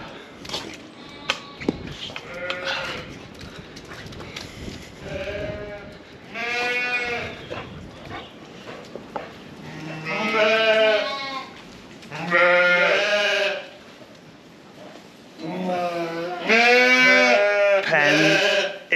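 Several sheep bleating repeatedly, some close and loud, others farther off, with shuffling and knocking sounds between calls.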